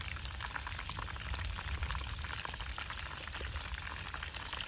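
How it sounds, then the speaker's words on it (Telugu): Chicken drumsticks fry in hot oil for a honey chicken dish, a close, steady crackling sizzle with dense spattering pops and a continuous bubbling hiss throughout. "మిగతా వాటిని కూడా ఫ్రై చేసుకోవాలి"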